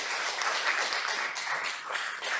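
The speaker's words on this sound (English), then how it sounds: "You guys can clap." An audience at a Vancouver city council meeting applauds, a dense steady patter of many hands clapping at moderate distance without pause.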